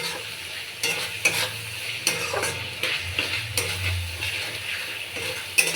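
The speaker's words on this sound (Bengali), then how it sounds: "মশলাটা ভালো করে কষিয়ে নেব।" Spiced masala paste with turmeric and salt fries and is stirred in a pan for a pangasius, potato and eggplant curry, steady sizzling under repeated scraping strokes of a spoon against the pot, close and moderately loud.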